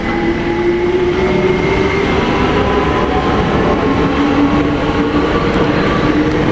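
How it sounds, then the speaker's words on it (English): A London Overground train passes through Denmark Hill station, a loud, continuous close rumble of wheels and rails that holds steady throughout with no gaps. "And over there we've got another London Overground."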